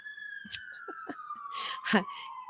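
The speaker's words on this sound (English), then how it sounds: "I have moments where there is no pain as an ambulance goes by" An ambulance siren goes by, a steady wailing tone sliding slowly down in pitch as it passes, moderately loud, with bursts of nearby noise and faint talk mixed in.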